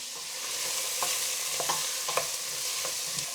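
An onion mix cooks over medium heat in a pan with a quiet, continuous sizzle and frying hiss, broken by a few soft scrapes and clinks of stirring.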